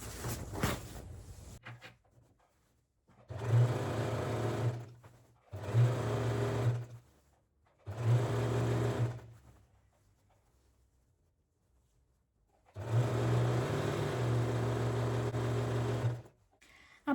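A sewing machine stitches a side seam of fabric in four separate bursts of rapid, whirring needle rattle, each a second or more long, the last one longest, with quiet pauses between.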